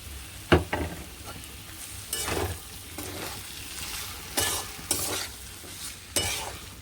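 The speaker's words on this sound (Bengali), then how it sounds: "ভালো করে নেড়ে দিলাম। চিংড়ি মাছগুলো ওপর নিচ হয়ে গেল সবজির।" Vegetables and fried prawns with spices are stirred in a pan, giving repeated scraping, clattering spatula strokes over a soft, steady sizzle, close and fairly quiet.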